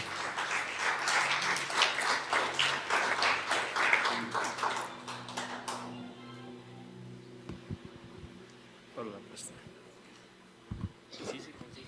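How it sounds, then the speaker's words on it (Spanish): Audience applause in a church congregation, dense clapping for about six seconds that then stops, followed by faint shuffling, scattered taps and quiet room noise. "vamos a darle un fuerte aplauso"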